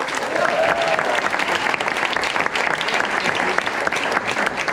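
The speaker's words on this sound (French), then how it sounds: "On peut les applaudir bien fort." A show audience applauds loudly for a performing dance company, a dense, sustained wash of clapping with sharp individual claps poking through and faint crowd murmur underneath.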